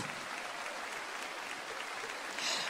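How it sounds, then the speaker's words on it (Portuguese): A church congregation at a conference sermon keeps up sustained applause, a thick, even roar of many clapping hands that swells slightly near the end. "Continua aplaudindo."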